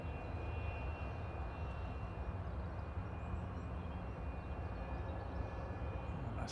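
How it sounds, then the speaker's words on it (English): Etihad airliner landing at Manchester Airport, a steady, distant jet engine roar with a sustained broadband rumble at moderate level, with no talk. "Etihad's just about to line up, so we'll catch this landing and then switch over."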